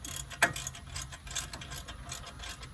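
A ratchet works loose a nut on a 2010 GMC with about 88,000 miles, giving faint, quick metallic clicks under a low mechanical background. One sharper clack stands out early, and no one speaks.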